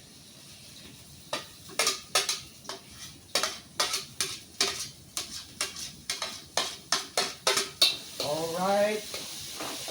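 Spring onion and chili stir-fried in a wok, with a quick run of sharp, rhythmic spatula scrapes and clacks against the metal over a low sizzle, then a brief bubbling hiss; a voice speaks briefly.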